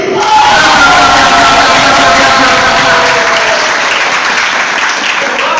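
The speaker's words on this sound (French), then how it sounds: "Nous applaudissons le frère Louis Génique." Loud, steady applause from a church audience during a Siloe Ebeneze event, with crowd voices and cheering mixed into the dense clapping that holds for several seconds.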